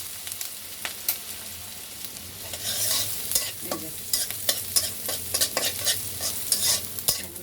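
Spice paste fries in mustard oil in a pan for a fish curry, a constant crackling sizzle broken by repeated scraping stirs of a spoon, close and fairly loud with no talking.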